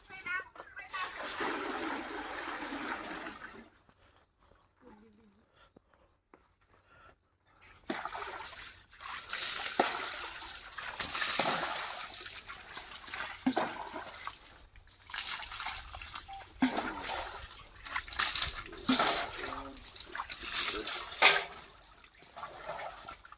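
Water splashes and trickles in bursts as a person is rinsed during a bath, with voices talking over and between the splashes.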